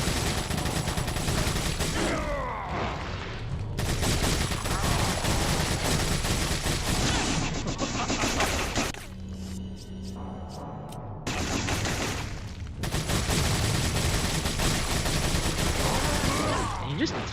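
Rapid overlapping gunfire from Resident Evil, with shotgun blasts among the shots, rattles loudly and almost nonstop, broken by a couple of short lulls and a burst of lower rumbling.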